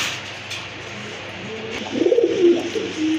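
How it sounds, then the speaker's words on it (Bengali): Indian Bombay pigeons, a big-sized pair, give a short, soft, rolling coo near the end, over a low background hum. "এক জোড়া বিগ সাইজের কোয়ালিটি সম্পন্ন ইন্ডিয়ান বোম্বাই কবুতর"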